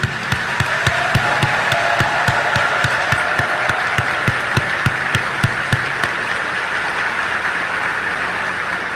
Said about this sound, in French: qu'il est juste et beau de vous exprimer notre gratitude par ce tonnerre d'applaudissements.